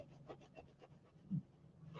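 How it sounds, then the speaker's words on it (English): Several dogs, woken very early, breathe heavily and snore softly in a slow, faint rhythm close by, with one brief louder snort near the end. "you probably hear them all snoring in unison"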